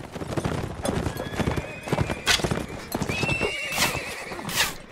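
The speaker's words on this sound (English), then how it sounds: "Oh man, my horse is so fast now!" Horse galloping in the video game Mount and Blade: rapid, continuous hoofbeats close up with a couple of whinnies, joined by battle noise and faint voices.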